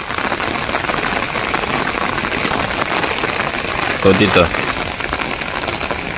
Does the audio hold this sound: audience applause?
no